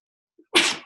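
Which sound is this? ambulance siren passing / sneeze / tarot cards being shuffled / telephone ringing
sneeze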